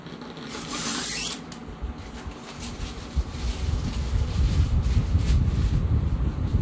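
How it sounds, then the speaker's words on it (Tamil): Air blows steadily from a newly installed Godrej 1-ton split inverter air conditioner indoors, a broad, continuous whooshing hiss that swells slightly louder in the second half, with no talking. "காற்று நல்லா ஃப்ளோ ஆகுது."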